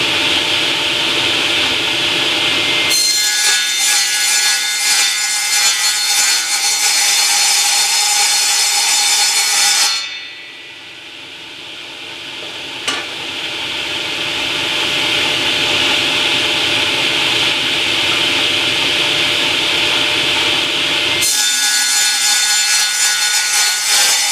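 Saw cutting thin wood pieces for a rabbet-jointed wall holster, a steady loud rasping drone that runs for several seconds, stops briefly near the middle, then resumes and continues to the end.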